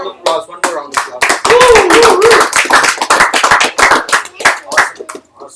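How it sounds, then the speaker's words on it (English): Clapping from a live-stream audience giving one more round of applause to a host, dense and sustained with lively cheering voices and talk over it throughout. "One more round of applause"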